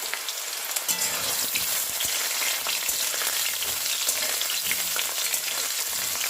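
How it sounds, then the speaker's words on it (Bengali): Potatoes fry in hot mustard oil in a kadai, a steady dense sizzle running without pause and close by, with faint stirring clicks underneath. "তেলটা গরম হয়ে গেছে, এবার আলুগুলো ছেড়ে দিচ্ছি।"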